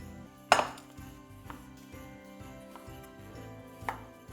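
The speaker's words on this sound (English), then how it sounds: "For the carrots, we grab a saucepan," A metal saucepan is grabbed and set down in a home kitchen while preparing glazed carrots, giving a sharp clank followed by softer knocks and a second clink near the end, with no talk.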